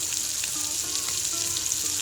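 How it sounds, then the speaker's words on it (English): Curry laksa paste stir-fried in a hot pan for a Nyonya-style dish, giving a loud, steady, dense sizzle with faint scraping underneath. "we just need to stir fry this curry laksa paste for about 1 minute"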